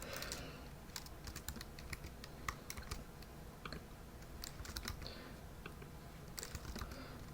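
Fingers type on a computer keyboard with quick, irregular clicks and taps throughout, quiet and close, with no speech.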